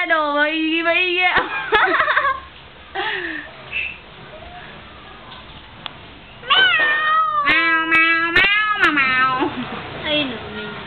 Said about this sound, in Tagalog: Naiyak yung pusa, oh.